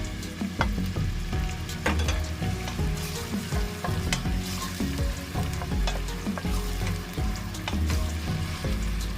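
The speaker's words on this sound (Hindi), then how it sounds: "प्याज को मीडियम फ्लेम पर मुसलसल चम्मच चलाते हुए ब्राउन कर लेंगे।" Onions sizzle and crackle steadily in a hot pan over a medium flame while a spoon continuously scrapes and stirs them as they brown, dense and continuous.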